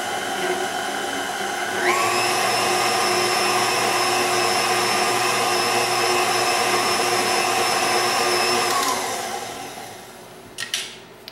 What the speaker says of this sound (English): I love my KitchenAid, but I just don't like how it doesn't get to the edges, or the bottom for that fact.